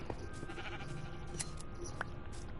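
A video-game sheep gives a single faint bleat over a steady low background hum.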